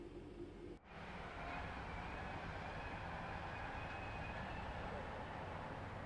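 A passing train in Train Sim World 5, a simulated Piccadilly service running as the 1R10 on a busy cross-city line, sounds as a steady, loud broadband rumble and hiss after a brief dip, continuing alone without talk.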